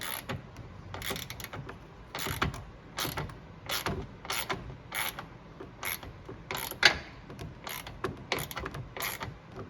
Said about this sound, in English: I'm just using a 1/4 inch drive ratchet, so nothing crazy torque-wise